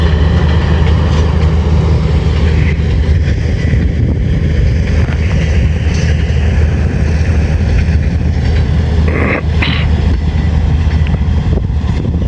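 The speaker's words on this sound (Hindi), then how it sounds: "आज ये 13 अप 14 डाउन का नया रेक जा रहा है" The new passenger rake of the Awam Express 13 Up rolling past at Attock City Junction, a continuous loud low rumble with rattling coaches and wind buffeting the microphone throughout.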